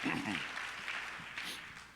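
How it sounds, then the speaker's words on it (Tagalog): Congregation applause at a church service, a steady sustained clapping from a crowd that holds throughout, moderately loud with a slight fade toward the end. "Isang malakas na palakpak para sa ating Panginoon"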